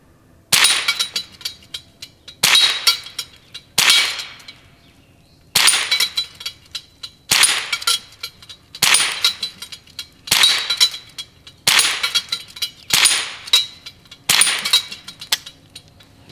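A Ruger 10/22 Takedown rifle fires quiet ammunition in ten separate sharp cracks spaced about every one to two seconds, each snapping off with a short ringing decay, fairly close and loud with silence between shots.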